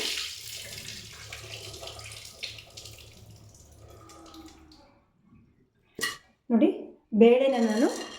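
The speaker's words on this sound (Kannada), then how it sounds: "ಬೇಳೆ ಚೆನ್ನಾಗಿ ತೊಳಿಬೇಕು ಫ್ರೆಂಡ್ಸ್ ಒಂದು ಮೂರು ಸತಿ ತೊಳ್ಕೊಡ್ತೀನಿ ನಾನು" Lentils (dal) are washed by hand in water in a steel vessel, giving soft swishing and sloshing with a few clinks, followed by short splashes and pouring as the water is drained; someone speaks between the sounds.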